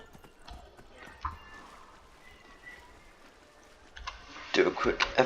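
A horse's hooves clip-clop in the Skyrim video game, soft irregular steps over quiet ambience that grow louder and busier near the end, with someone talking in the background.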